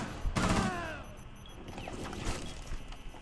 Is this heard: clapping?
no